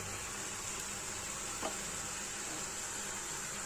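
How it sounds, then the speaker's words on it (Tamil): Shrimp and drumsticks sauté in hot oil for a home-style prawn curry, giving a steady, even sizzle throughout with one brief scrape or stir midway, close and alone. "எண்ணெயிலே தான் வதங்குது"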